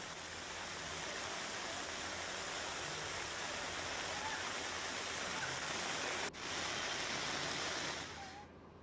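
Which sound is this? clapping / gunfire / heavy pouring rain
heavy pouring rain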